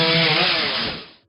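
Chainsaws cut into a fallen tree during a rescue by fire crews, a loud, dense, close buzzing roar that holds steady and then winds down over about a second.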